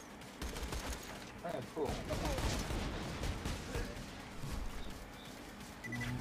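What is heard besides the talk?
pistol gunfire in video game Borderlands 2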